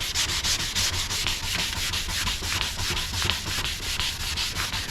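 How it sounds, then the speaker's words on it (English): A car headlight lens is wet-sanded by hand with 600 grit sandpaper: close, loud, rhythmic back-and-forth rasping strokes, about four per second, steady throughout without talk. "It starts sanding a lot smoother, a lot easier."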